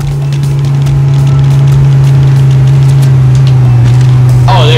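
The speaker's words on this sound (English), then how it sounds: "The car was loud." A loud car engine in the video game Goat Simulator drones at a steady low pitch, close and constant throughout, with a brief higher sweep near the end.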